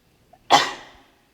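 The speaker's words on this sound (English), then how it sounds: "and I sneezed." One sudden, sharp sneeze bursts out loudly and close, then trails off quickly into silence.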